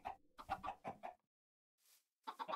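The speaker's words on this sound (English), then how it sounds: "There's a chicken, chicken in there now." A Minecraft chicken clucks in a few short bursts, close and clear, with a brief pause and a faint soft noise before more clucks.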